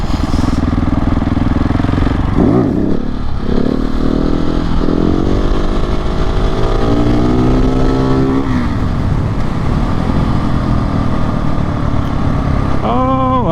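A KTM 690 SMC R single-cylinder motorcycle engine revs up and down repeatedly while riding, with rising and falling pitch sweeps, loud and close, wind noise throughout and a brief rev at the end.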